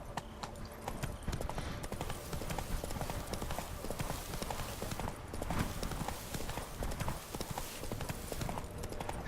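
Roach, Geralt's horse in The Witcher 3: Blood and Wine, gallops in a steady, continuous run of close, loud hoofbeats that never break off.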